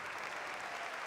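Faint, even applause from an audience at an opening ceremony, a soft continuous wash of distant clapping lasting about a second.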